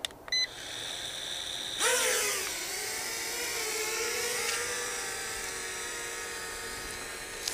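A Helifar H816 selfie drone lifts off and flies outdoors in strong wind, its propellers rising into a steady, close, high-pitched whir that holds for several seconds after a short beep at the start.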